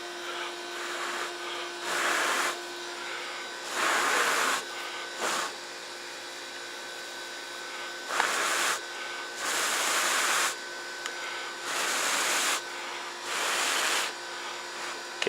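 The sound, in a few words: blowing on an ember in a tinder bundle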